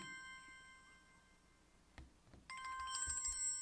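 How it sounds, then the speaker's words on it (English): An electronic phone ringtone trills in steady tonal bursts, faint at first and then louder after a soft thump, close by. "So, Sheikh, it looks like we've got a phone call coming in right now."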